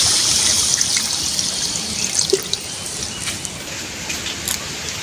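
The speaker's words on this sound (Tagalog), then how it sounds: "Maglalagay natin po tayo ng tubig para po sa ating pampalambot" Water splashes and trickles steadily into a cooking pot of pork, with a few brief clinks and drips over a constant running-water hiss.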